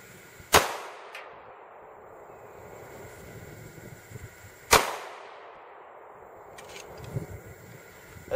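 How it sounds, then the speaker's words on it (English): Two sharp, loud gunshots from an old .45 pistol fired into a bulletproof vest and wood, spaced about four seconds apart with a quieter knock near the end, each with a brief ringing decay. "That second shot, I just shot into the wood."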